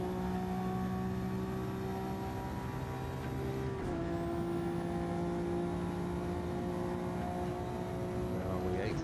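Maserati MC20 race car at full speed in Gran Turismo 7, its engine a steady, loud high-pitched drone that shifts pitch briefly midway as the gear changes to eighth, then holds its sustained whine.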